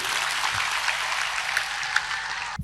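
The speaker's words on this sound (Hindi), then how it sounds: "ताली बजते थे बच्चे के लिए यार" An audience at a student awards ceremony claps for a top-ranking student: dense, steady applause fills the hall and stops abruptly at the end.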